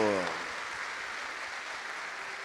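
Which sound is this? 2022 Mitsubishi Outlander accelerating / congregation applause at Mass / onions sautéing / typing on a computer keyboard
congregation applause at Mass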